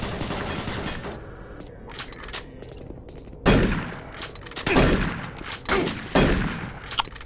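Gunfire in the shooter game Doom 3 comes in loud bursts of rapid shots, with a quieter gap and then several heavy blasts in close succession.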